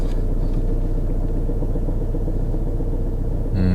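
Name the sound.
car engine running rough with vibration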